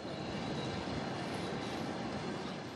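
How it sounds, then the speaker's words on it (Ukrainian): Commuter electric train arriving at a station in Dnipro, a steady loud rumble of rolling wheels and carriages that fills the whole short stretch without any voices. "На годинку близько 8 ранку прибуває потяг із Чапленого."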